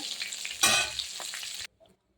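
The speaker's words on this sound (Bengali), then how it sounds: "দেখুন বন্ধুরা আমার মাছ ভাজা হয়ে গেছে এবার আমি নামিয়ে নেব মাছগুলো" Fish, shankar (stingray) for a spicy curry, frying in a pan with a short burst of sizzling and stirring that cuts off abruptly, leaving near silence.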